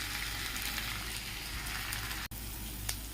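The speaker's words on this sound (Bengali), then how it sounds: "দিয়ে ভালো করে ভেজে নেব, ভালো করে ভেজে নেব।" Coarsely ground ginger-garlic paste fries in a pan, a steady close sizzle like light rain that drops out abruptly for a moment before resuming, no voices.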